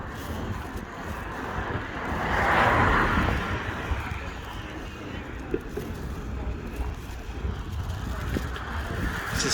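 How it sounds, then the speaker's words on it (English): Steady road traffic rumble beside a Thames-side pub in London's old Docklands near Canary Wharf, a continuous mid-level wash with a louder swell of a passing vehicle around the middle, plus wind buffeting. "You'll have to excuse the traffic noise,"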